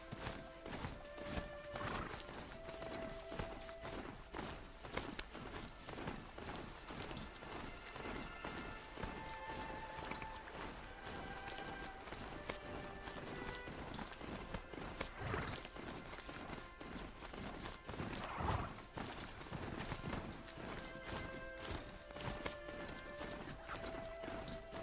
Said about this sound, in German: Schauen, wie weit das Pferdchen noch mitreiten kann.